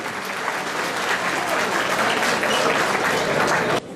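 An audience at an AK Party iftar dinner in Erzincan applauds as a deputy is welcomed to the podium. Dense, loud clapping carries on evenly for about four seconds before cutting off abruptly.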